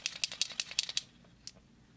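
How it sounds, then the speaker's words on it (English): Metal agitation ball clicking inside the barrel of a shaken Sakura Pentouch paint marker, a quick close run of about eight sharp rattling clicks followed by one last click, otherwise quiet. "The paint is sufficiently mixed when you hear the clicking sound of the metal agitation ball inside the barrel."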